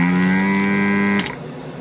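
A steady, droning mechanical hum with a strained, groaning tone from a suction pump with a clogged filter runs loudly, then cuts off suddenly, leaving quieter background noise.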